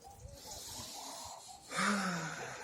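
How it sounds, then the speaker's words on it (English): Deep, heavy breathing during a light weight-training and body-calibration session, with steady breathy exhales that swell into a louder, wheezing breath near the end, close to the microphone. "focusing on my breathing is a very important part of oxygenating the blood"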